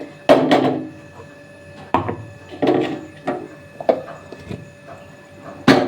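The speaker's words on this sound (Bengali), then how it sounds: "টমেটোটাকে আমি কেটে নেব" A knife chops a tomato on a board in repeated sharp, close thuds, about eight uneven strikes spaced across the stretch with quiet gaps between them.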